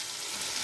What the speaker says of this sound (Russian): Прям все здесь жарится, не надо ничего отдельно.